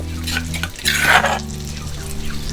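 Garlic-coriander-pepper paste being stir-fried in pork lard: a soft, steady sizzle with a brief scraping stir of a utensil in the pan partway through, over a low background hum.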